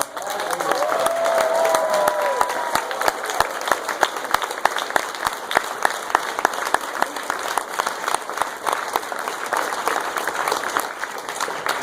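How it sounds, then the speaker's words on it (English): A large crowd at a political concession speech breaks into sustained applause and cheering, loud and dense for several seconds with sharp individual claps standing out and a few shouts rising early on. "Give yourselves a round of applause"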